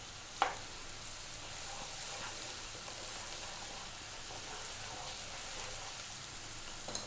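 Quiet, steady sizzle of garlic ginger paste frying in a pan over above-medium heat for a curry, with a sharp clatter near the start and faint stirring crackles throughout.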